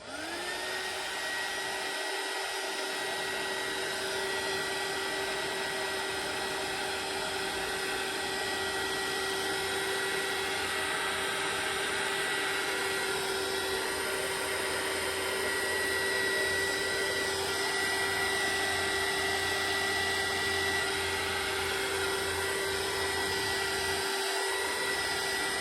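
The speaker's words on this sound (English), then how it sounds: "use the heat tool again" A heat tool drying watercolour paint gives a loud, steady blower roar with a high whine, running continuously and unchanged from start to finish.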